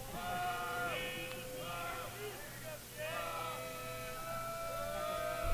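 Baseball players in a high-school dugout at a tournament game bleat like sheep and goats in a chorus of overlapping voices, with commentary running beneath the animal imitations.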